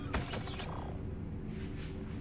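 In the VR video game GTFO, a door closes with a loud creaking, grinding mechanical rattle that sweeps downward, then fades into a low steady hum, with no talk.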